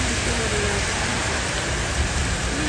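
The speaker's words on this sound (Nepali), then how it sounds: "पोखरातिर यसरी पानी परेको छ" Rain falling steadily in Pokhara, Nepal, a loud, dense, even hiss of drops striking surfaces throughout, with no pauses or voices.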